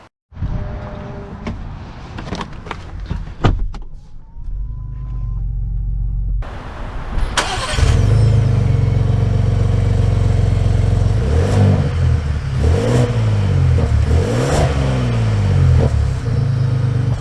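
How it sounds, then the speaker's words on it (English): A 2022 Lincoln Navigator Reserve, with door and cabin clicks and thumps first, then the engine catching and settling into a deep steady rumble, followed by rising and falling revs as the SUV pulls away, heard close from inside. "let's take it out and see how it drives."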